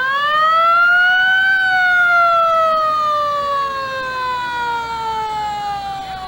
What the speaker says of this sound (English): Sounds like it has a beautifully restored antique siren.